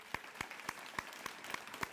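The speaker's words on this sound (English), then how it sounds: "let's give yourselves a round of applause" Faint, sparse applause at a Green Task Force breakfast event, a few evenly spaced hand claps heard from a distance.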